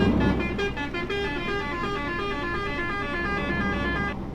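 A Mercedes-Benz Axor truck horn in the Euro Truck driving game, sustained and loud for about four seconds as a steady tonal blare over engine rumble.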